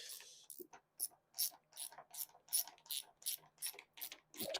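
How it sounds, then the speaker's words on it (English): A small 7/16 socket ratchet tightening nylon lock nuts onto bolts on a Honda CRF300L mount, a quick series of about a dozen crisp close clicks in steady rhythm. "I'm just going to use a small socket here and tighten up the nylon lock nuts onto the bolt."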